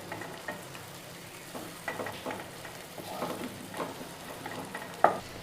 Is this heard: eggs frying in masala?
yes